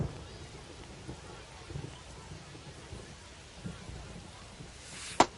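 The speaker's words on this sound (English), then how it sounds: "This rain is not letting up." Steady rain falls over a baseball stadium in the MLB The Show video game, a soft continuous patter with faint low rumbles, ending in a sharp brief crackle.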